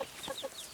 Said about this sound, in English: so the little chickens have been outside.